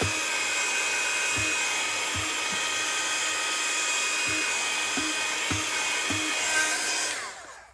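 A heat tool blows on embossing powder from the back of the piece, making a loud, steady fan-like roar that runs unbroken for about seven seconds and then cuts off at the end.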